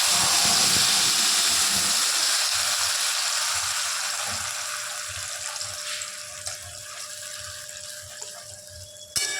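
A tomato, onion and green chilli paste hits a hot pan with a loud, broad hissing sizzle that slowly fades, close up, ending with a brief knock.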